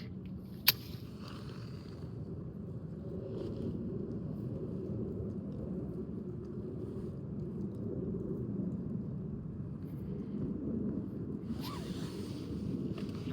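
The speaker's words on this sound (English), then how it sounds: "With that wind too." Steady wind blowing outdoors, a low continuous rumble buffeting the microphone throughout, with a sharp click near the start and faint rustling late on.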